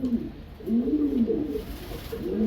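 Fancy high-flying pigeons coo close by in soft, overlapping throaty rolls that run almost continuously, with no talking.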